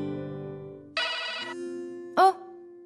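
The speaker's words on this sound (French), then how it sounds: "Réponds au téléphone, Arnav." A telephone ringtone plays as a few bright electronic tones, a sustained tone followed by a brief rising chirp, over a quiet background with no speech.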